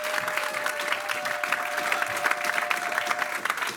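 A church congregation applauds in a continuous, dense wash of clapping with crisp individual claps throughout, and a faint steady tone running beneath it.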